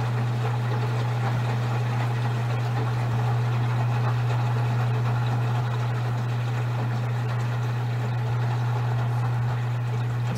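A washing machine runs a medium load of plush toys, giving a constant low motor hum with a faint swishing, churning wash underneath, steady and close with no voices.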